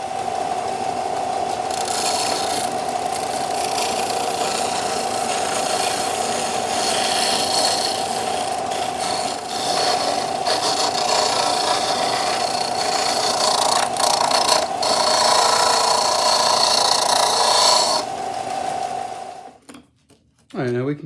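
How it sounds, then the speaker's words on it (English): A bench sander cleans up the ends of a fabricated lens part for a Duncan meter, running as a steady loud whine with scraping contact for about eighteen seconds, then spinning down; a voice talks faintly underneath. "we can just clean up the ends a little bit on the sander"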